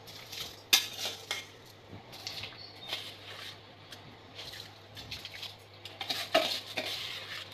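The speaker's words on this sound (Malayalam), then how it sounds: "ഇളക്കി കൊടുക്കാം." Washed rice is stirred into boiling water in a pot for egg biryani. A spoon makes quiet, irregular scrapes and clinks against the pot, with a few sharper knocks and faint bubbling underneath.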